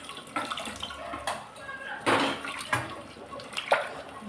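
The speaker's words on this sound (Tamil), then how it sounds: "இப்போ இந்த புளியை கரைச்சி இந்த குக்கரில் ஊற்றி கழுவிட்டு" Tamarind water poured into a pressure cooker while cooking sambar, a splashing pour with clinks of the vessel, irregular bursts of liquid and metal over a few seconds.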